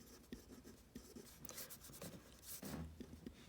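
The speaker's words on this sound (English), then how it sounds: "I'm going to go ahead and write out lower bound" A pen scratches out working by hand on a quiet surface, soft irregular strokes and taps close by, with no talking over it.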